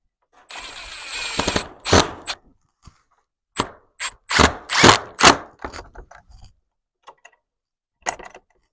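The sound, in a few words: screw being driven in with a drill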